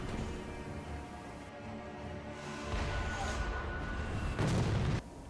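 Cannon fire in the game Sekiro: a heavy, sustained rumbling boom builds and ends in a loud burst near the close, with no talk over it.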